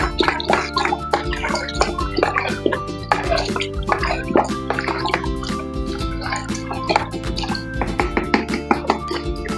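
Liquid plant spray mixture with a spoonful of dish soap being stirred, busy wet sloshing and dripping with clinks and splashes running steadily throughout, close and fairly loud.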